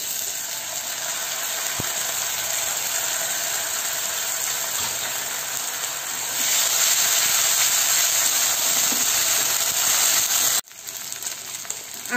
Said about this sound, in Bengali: এর ভিতরে দিয়ে দেব আদা রসুনের পেস্ট